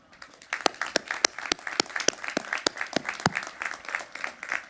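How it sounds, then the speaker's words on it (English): Sharp, rapid claps ring out in steady succession, an audience applauding together in a large room at a graduation ceremony. "The class of 2021 deserves your applause for a job well done."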